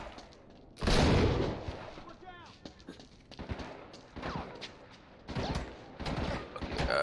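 Gunfire bursts from the video game Uncharted 3: Drake's Deception, a loud blast near the start followed by scattered shots and impacts over game sounds, with a voice talking at times.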